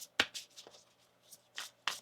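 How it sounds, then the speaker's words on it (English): Tarot cards being shuffled by hand, a few soft, irregular riffling and tapping bursts, quiet and close, with no talk. "One more shuffle here."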